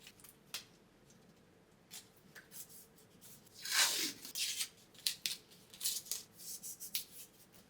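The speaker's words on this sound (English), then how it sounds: "Using an X-Acto knife, I actually cut right around the hinges to give it a perfect clean line" An X-Acto knife slices green painter's tape around the hinges of a front door, giving faint scratchy scoring strokes with a longer drawn cut in the middle, close and quiet, without talk.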